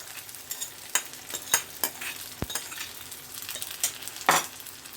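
Boiled pasta being stirred through a spicy sauce in a hot frying pan, with a spoon scraping and knocking against the pan in irregular strokes over a soft, steady sizzle. No one speaks.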